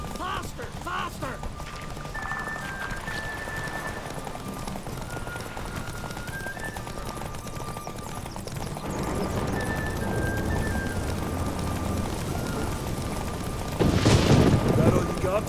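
Horses galloping in a race in The Witcher 3, a continuous loud rumble of hooves with music playing over it and speech in places. The pounding grows heavier toward the end.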